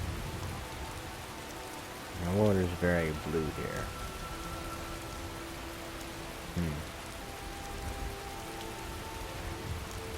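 Steady soft rainfall in the video game Skyrim hisses throughout, with a person speaking briefly over it.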